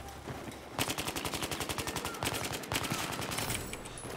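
Rapid automatic gunfire in Battlefield 4 rattles in a fast, even burst of closely spaced shots, loud and close, running almost continuously with a short break partway through.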